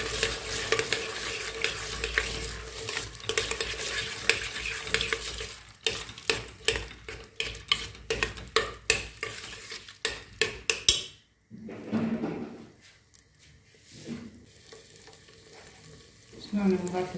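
Tomato paste frying and being stirred in a pot for couscous with dried meat, a steady sizzle under sharp, repeated scraping and clinking of a spoon against the pot, then quieter sizzling after a brief pause.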